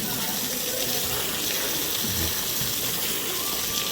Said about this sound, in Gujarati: પાણી હાલી જાય છે હવે વચ્ચે રોકાતું નથી